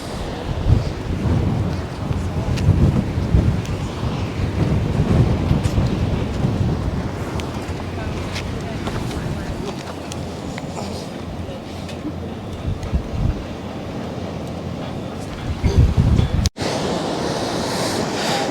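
Strong gale wind roars steadily across a beach with crashing surf, loud and continuous, buffeting close by with a brief gust burst near the end.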